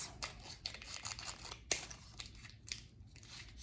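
Scissors snipping through Scotch tape for a homemade magnetic headband with elastic, a run of close, quiet cuts with one sharper snip midway, crinkly and crisp.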